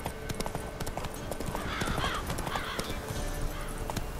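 Roach, the horse in The Witcher 3, gallops with rapid, close clip-clop hoofbeats and a neighing whinny partway through, loud and steady throughout.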